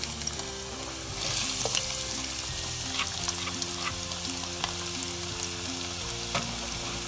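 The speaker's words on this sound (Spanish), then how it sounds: "ya el aceite está caliente, vamos a ponerle nuestra cebolla." Onion hits hot oil in a pan for a Peruvian chicken cau cau, producing a steady close sizzle with scattered stirring clinks and scrapes.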